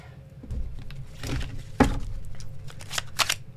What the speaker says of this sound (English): And I'm shuffling cards for the last card.